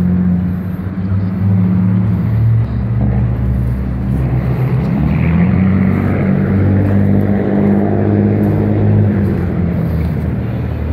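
A black 2016 Chevrolet Camaro Z28 on Foose wheels in Las Vegas gives off a loud, steady low engine rumble that holds constant throughout, with no voices over it.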